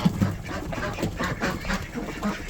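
Ducks and geese on a homestead quack and honk steadily as they are let in toward their water, a busy overlapping flock chorus with no clear gaps.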